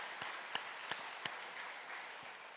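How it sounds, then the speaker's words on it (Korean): A church congregation applauds together in a steady wash of clapping that sounds somewhat distant and moderately loud, with a few sharper individual claps standing out. "주님께 영광의 박수."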